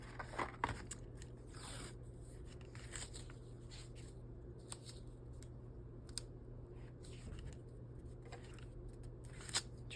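Scissors snipping washi tape at the edge of a junk journal cover, a few quiet, crisp cuts and faint paper handling against a soft, steady background hum.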